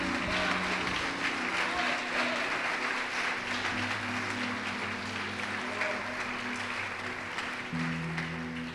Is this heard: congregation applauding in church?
yes